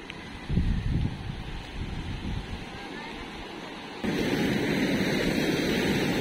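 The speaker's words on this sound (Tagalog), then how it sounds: "dinig na po yung ano, lakas ng hampas ng alon" Strong waves crash and surf roars beside a large yacht-like boat on open water, with heavy wind buffeting the microphone, loud surges early on and a steadier rushing wash later.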